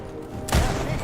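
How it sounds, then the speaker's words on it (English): A burst of gunfire in the video game Indiana Jones and the Great Circle, a sudden loud blast erupting after a quieter stretch and ringing on to the end. "Oh, he shot me through the thing."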